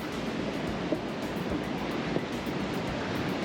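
Sea waves wash against stone steps leading down from a hotel into the water, a steady rushing surf with wind buffeting the microphone and no talking.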